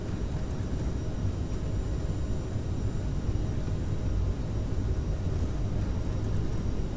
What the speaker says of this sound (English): And we're clear for takeoff.